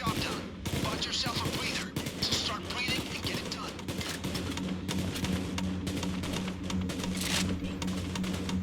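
Rapid gunfire from the video game Payday 2 keeps up as dense bursts and volleys throughout, loud and continuous, while a player talks over the shooting.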